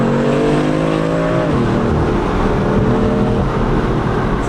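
Tuned BMW M4 with a raspy exhaust accelerating hard, a loud close engine roar climbing through the revs, dipping at a gear change and then rising again, with no talk.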